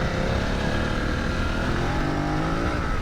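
Suzuki 900 GS motorcycle engine pulling hard under acceleration, a loud, close, continuous roar with steadily rising pitch, heard alone without talking.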